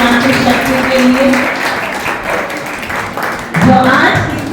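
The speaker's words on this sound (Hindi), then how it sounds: "एक बार ताली बजाइए हमारे मातृशक्ति के लिए" An audience applauds at a Women's Day program at a Burhanpur service centre, steady clapping over the whole stretch while a voice keeps talking above it.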